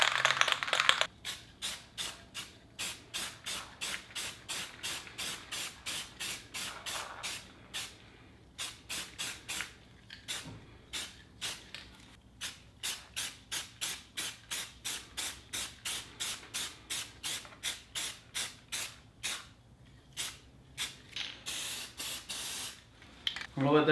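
Spray paint-and-primer hisses in many short, evenly spaced bursts onto garage door weatherstripping, rather faint, with quiet pauses between passes.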